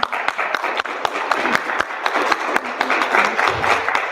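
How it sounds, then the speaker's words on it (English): A live audience applauds after a poem at a community celebration of Men's Health Month and Juneteenth, with dense, sustained clapping that carries steadily from start to finish and no talking over it. "Please give them another round of applause."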